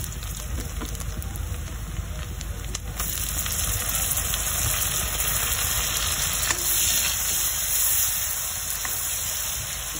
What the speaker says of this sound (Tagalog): kapag ginigisa natin ang ating kamatis